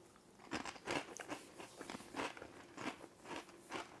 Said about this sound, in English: let's just kind of listen to crackling of the skin